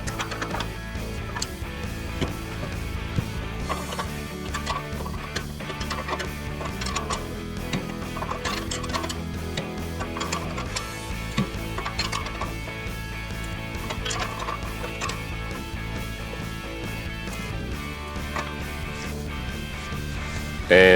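A ratchet wrench tightening running-board bolts on a Ford Bronco, rapid clicking repeated through the clip with background music and some talk.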